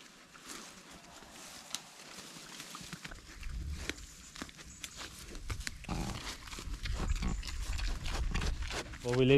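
Pigs being moved on a farm, with snuffling, grunting animals and shuffling footsteps growing louder and closer over several seconds, mixed with bumps and general farmyard noise.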